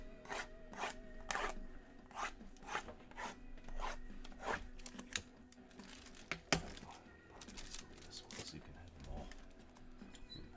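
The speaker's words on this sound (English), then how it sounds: "type them into the randomizer" Fingers type on a computer keyboard to enter names into a randomizer during a trading card case break, a faint run of quick, irregular key clicks with a person talking over part of it.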